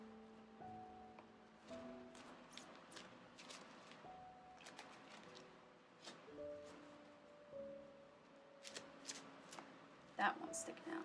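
Tarot cards are shuffled in the hands, soft riffling and slapping bursts recurring close by, while someone talks quietly alongside with a faint musical tone underneath.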